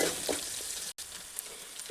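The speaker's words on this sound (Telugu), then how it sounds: "ఇప్పుడు అల్లం పేస్ట్ పచ్చిపచ్చి వేయించుకోవాలి." Ginger paste frying in a pan for egg pulao, a brief steady sizzle with a sudden momentary dropout midway and faint stirring ticks.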